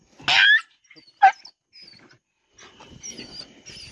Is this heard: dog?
yes